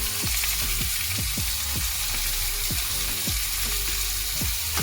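Tomatoes sizzle and fry in a pan while a spoon scrapes and stirs them in a steady repeating rhythm, with a constant close hiss running underneath.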